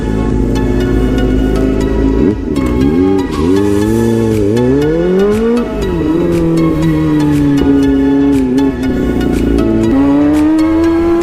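A 400cc motorcycle riding on a road near Patitinan, Sagnay, Camarines Sur, its engine loud and close throughout, the pitch rising and falling as it revs and shifts through gears, with other bikes in the group nearby.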